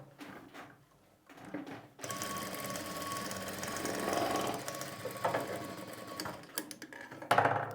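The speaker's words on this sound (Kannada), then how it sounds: "ಈಗ ಫಸ್ಟು ನಾನು ನಿಮಗೆ ಒಂದು ಸ್ಟಿಚ್ ಮಾಡಿ ತೋರಿಸ್ತೀನಿ ಸ್ಟಿಚಿಂಗು ಪರ್ಫೆಕ್ಟಾಗಿದ್ದರೆ ಯಾವ ರೀತಿ ಇರುತ್ತೆ ಅಂತ" A tailoring sewing machine stitches fabric in a steady, fast mechanical whir after a few quieter clicks, running continuously and close up for several seconds.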